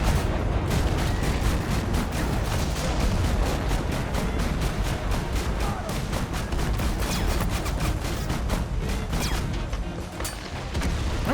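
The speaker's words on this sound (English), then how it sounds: "We're getting some artillery now." Dense, continuous barrage of artillery and gunfire in a video game battle resembling Mount & Blade with guns, loud rapid booms and cracks running throughout without pause.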